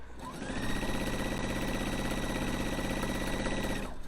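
A sewing machine stitches a mesh bag, running as one steady, fast, close mechanical hum for several seconds, starting and stopping cleanly with no voices.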